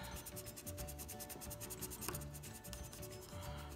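A burnishing tool rubs a decal down onto a restored Matchbox Lesney #66 Greyhound toy bus in quick, faint back-and-forth strokes at close range, with a soft scratchy sound.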